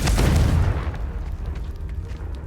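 A Confringo blasting spell explodes in Hogwarts Legacy, a single loud booming blast with a deep rumble that decays over a couple of seconds, no talk.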